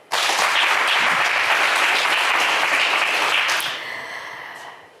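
Studio audience at a French television game show breaks into loud, dense applause that holds for several seconds, then thins and fades with scattered claps near the end.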